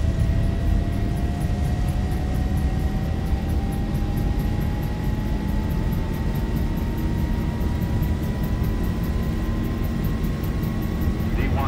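Zibo Boeing 737 accelerating down the runway on its takeoff roll in the X-Plane 11 flight simulator, a steady loud engine roar with a slowly rising whine throughout.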